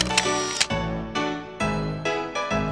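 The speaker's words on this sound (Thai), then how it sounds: "หยิบกล้องและกดชัตเตอร์แรกของวันที่ภาพนี้ค่ะ" A camera shutter fires repeatedly as photos are taken. Around six sharp mechanical clicks come at uneven intervals, close and crisp, over a steady musical background.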